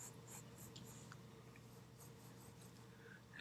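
A graphite pencil drawing on paper makes a soft, scratchy rubbing in short strokes, faint and close against a low hum, with a louder knock at the very end.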